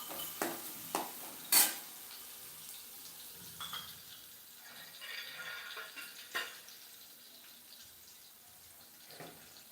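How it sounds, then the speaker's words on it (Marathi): Chopped onion sautés in a pan until reddish, with a faint, quiet sizzle broken by a handful of spatula scrapes and taps, mostly in the first two seconds. "तोपर्यंत कांदा चांगला परतून घ्यायचा"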